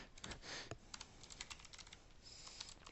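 Rapid typing on a computer keyboard, close and quiet, with irregular bursts of key clicks continuing steadily and no talk.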